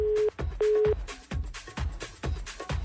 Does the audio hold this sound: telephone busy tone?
yes